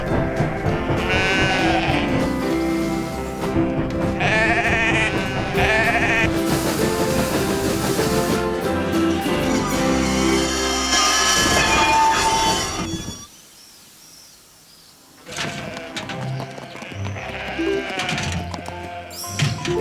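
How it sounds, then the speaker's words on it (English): A gentle flock of sheep in a Postman Pat cartoon bleats repeatedly, the wavering calls mixed in with loud background music that briefly drops away before returning. "at least the sheep are enjoying our strawberries, Alf."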